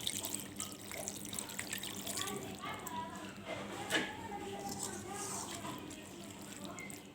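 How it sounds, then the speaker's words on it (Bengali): A small splash of water poured into a cooking pan of small fish charchari with coriander leaves. It is a soft, steady trickle and gurgle, faint and close, with a slight spike of splashing midway. "আমি এখন সামান্য পরিমাণ একটু পানি দেব।"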